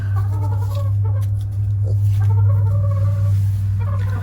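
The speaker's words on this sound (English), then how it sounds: "Let's get over to the chickens." Chickens on a farm clucking and murmuring close by, several overlapping calls over a steady low hum, with a few sharper clucks scattered through.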